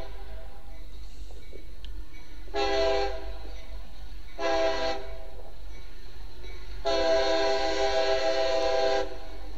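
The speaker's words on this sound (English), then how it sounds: "Mostly the containers and, a little mixed of everything on the freight train." A freight train horn blasts three times, two short honks then a longer one, over the low rumble of the container-laden train passing.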